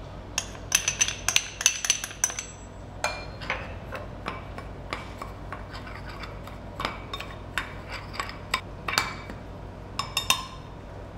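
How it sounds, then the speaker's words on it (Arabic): Dry ingredients of flour, sugar and cocoa being mixed for chocolate madeleines, heard as irregular quiet clinks and taps of a utensil against a bowl, clustered in bursts with brief pauses. "نخلط المقادير الناشفين مع بعض"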